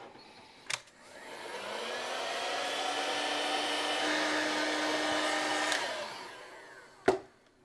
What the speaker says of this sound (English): I'm going to heat shrink them on to the handles here.